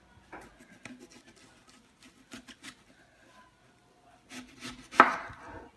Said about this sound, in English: Then we're gonna cut it in half.